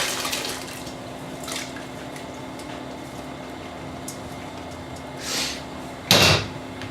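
Chopped vegetables for split pea soup tipped into a pot of water, a short splashing tumble near the end following a softer thud, over a steady low kitchen hum with no talking.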